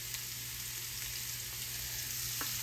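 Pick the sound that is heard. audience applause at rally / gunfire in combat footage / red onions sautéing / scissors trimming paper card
red onions sautéing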